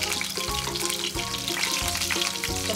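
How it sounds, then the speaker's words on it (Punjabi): Boiled arbi (taro root) pieces shallow-frying in a pan, a steady close sizzle and bubbling with faint scraping as the pieces are turned, no voices over it. "ਇਹਦਾ ਤਲ ਲੈਣਾ ਪਲਟ ਕੇ ਆਪਾਂ ਤਲ ਲੈਣਾ"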